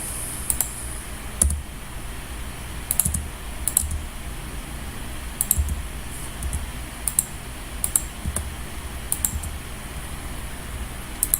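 Sharp computer mouse clicks and Ctrl key presses, scattered irregularly over steady faint background noise, each tap brief and close-up, with no voices.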